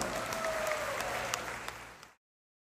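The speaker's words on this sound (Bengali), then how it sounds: "আমরা এটা জোরে করতালি দিই এই তিনজনের জন্য" Loud, dense applause from an audience at a Bangladeshi festival pavilion in Toronto, a steady wash of clapping with scattered cheers that carries for about two seconds and then stops abruptly.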